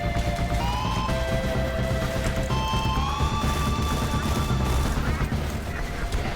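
Shotgun blasts from the video game Borderlands 2, repeated booming shots over continuous gameplay effects and music, loud and dense throughout.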